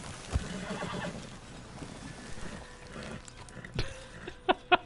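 Horse in the Red Dead Redemption 2 video game whinnies amid soft hoof clops and ambient game sounds, ending with two sharp close clicks; fairly quiet overall.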